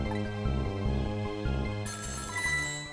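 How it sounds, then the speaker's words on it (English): A phone rings in the Ghost Trick video game, a repeating electronic ringtone pulsing in steady bursts over a musical backdrop, with no talk over it. "sudden phone call interrupts all our fun"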